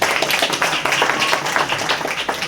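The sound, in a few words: audience applause for a student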